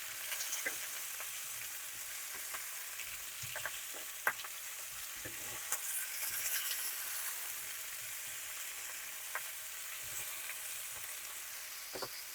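Peppers fry in oil in a pan with a continuous soft, hissing sizzle, broken by occasional faint pops and crackles throughout.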